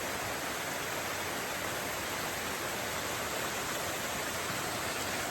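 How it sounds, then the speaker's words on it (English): A waterfall along the Tiger Leaping Gorge trail pours as a steady, broad hiss of rushing water, fairly faint and unbroken, with no voices. "It's just a waterfall, but yay, we love waterfalls."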